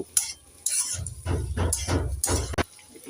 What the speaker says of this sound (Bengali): নেড়ে চেড়ে সবজিগুলোকে দু মিনিট ভালো করে ভেজে নেব